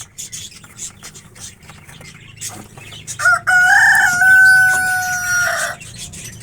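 A grown rooster, kept where love bird breeding boxes are prepared, gives one loud, close, drawn-out crow lasting a couple of seconds, with faint scuffling and clucking before it.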